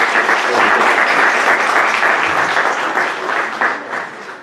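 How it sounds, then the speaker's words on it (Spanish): Sustained applause from a crowd at a neurology lecture session, steady clapping that fills the room and tapers slightly toward the end. "Démosle por favor un aplauso como una bienvenida"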